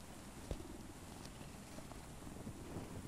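A cat purrs low and continuous in the Mortal Shell video game, a soft rumbling texture under faint windy ambience with a few small clicks, and no one speaking.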